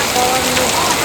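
Heavy rain pours down in a village, a loud, dense, unbroken hiss of falling water that fills the whole moment.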